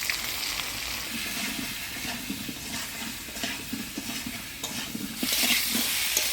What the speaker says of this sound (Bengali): আলুটা একটু ফোড়নের তেলে নাড়াচাড়া করে নিলাম এবার কাটে রাখা পটলগুলো দিয়ে দিব